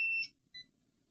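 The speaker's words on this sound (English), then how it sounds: "This one will gonna give me a beeping because it's a 100 ohm resistor down there" A multimeter in continuity mode beeps across a 100 ohm resistor in a faulty Krell KSA 100 MK II class A amplifier, giving two short electronic tones, the first longer and the second brief, in a quiet room.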